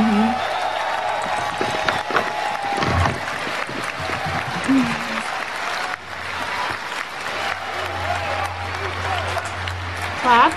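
Audience applause at an E3 live presentation, a moderate wash of clapping heard under ongoing talk from nearby commentators, swelling and fading over several seconds.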